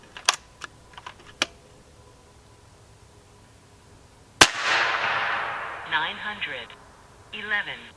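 A Hatsan Factor Sniper .30 calibre airgun firing 61.5 grain slugs, a single sharp loud crack followed by a hissing decay, with a few light clicks before and a faint electronic beeping afterwards.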